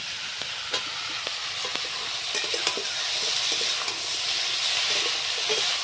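Chopped tomato frying in hot oil for a fish curry, a steady close hissing sizzle that builds slightly, with a few light clicks of stirring and no voices.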